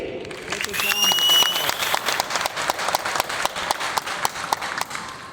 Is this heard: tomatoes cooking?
no